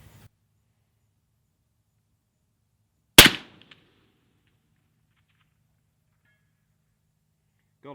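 A single sharp, distant crack of a .308 rifle shot striking a steel target at about 1100 yards, short and isolated amid near silence.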